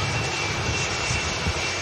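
A Jet2 Boeing 757 passes at Manchester airport, its jet engines producing a loud, steady roar with a throbbing low rumble, close and continuous.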